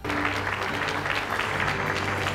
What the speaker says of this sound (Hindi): जहां तालियों से उनका जोरदार स्वागत हुआ।